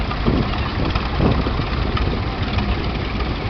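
A small McCormick W4 standard tractor idles with a steady low rumble, loud and close, running alone without talk.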